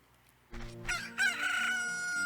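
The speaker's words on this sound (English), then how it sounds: "Look, a chicken hatched from the egg you were incubating." A newly hatched chicken in Zelda: Ocarina of Time gives a loud, close cock-a-doodle-doo, a rising cluck followed by a long, drawn-out crow over faint background music.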